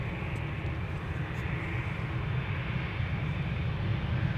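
An Air Baltic airliner throttles up at Amsterdam Schiphol Airport, a steady, broad engine roar heard from a distance that holds at an even loudness throughout.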